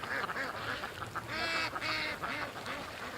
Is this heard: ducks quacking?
yes